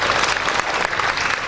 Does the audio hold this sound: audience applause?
yes